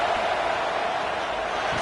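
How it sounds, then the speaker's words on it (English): A packed stadium crowd at a college football game, Alabama at Georgia, roars in a steady, loud wash of cheering that holds without a break. "It's early, but this crowd is fired up. Listen to this noise here."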